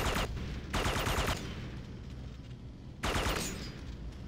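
Grenade launcher fire in the shooter Red Faction 2 comes as loud, close bursts: two back-to-back blasts early, a quieter stretch, then another heavy shot near the end, with no talking.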